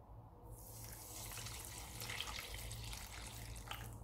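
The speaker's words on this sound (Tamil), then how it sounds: "இதிலே தேங்காய் பால் சேர்த்துடலாம்." Coconut milk pours into strained palm sugar syrup in a steady, faint liquid stream that runs on without a break.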